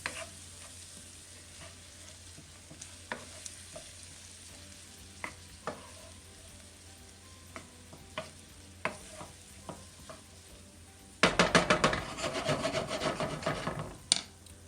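A spoon scraping and stirring a corn mixture in a hot pan, with scattered taps and soft sizzle, then a dense burst of louder scraping toward the end, close and with no voices.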